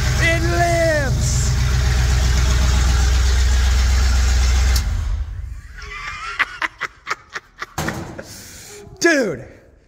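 A 1952 Ford F1 pickup engine, running for the first time in six years, idles with a low, steady rumble for several seconds, then cuts off, followed by a series of clicks and a brief voice.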